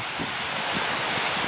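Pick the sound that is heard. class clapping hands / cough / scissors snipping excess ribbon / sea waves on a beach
sea waves on a beach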